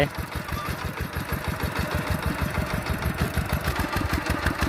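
An old farm tractor plows an upland field, its engine chugging in a fast, even pulse that stays steady and fairly close.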